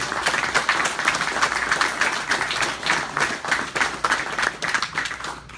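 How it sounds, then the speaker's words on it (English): Audience applauding at the Rat Fink Museum during a sit-down with Gene Winfield and Bob Fryz, sustained crowd clapping with a dense, lively texture that holds steady and tapers slightly near the end, without talking. "Let's give these two a huge round of applause."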